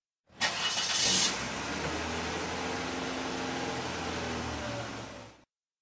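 A toy car sound effect opens with a brief bright burst, then settles into a steady engine-like drone lasting several seconds before cutting off abruptly.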